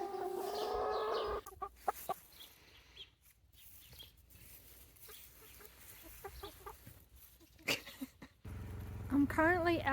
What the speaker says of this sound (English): Extremely friendly chickens.